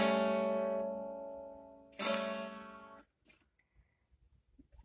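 A7 chord on a dulcimer, strummed once and left ringing to fade, then struck again for about a second before it is damped into near silence broken by faint small noises.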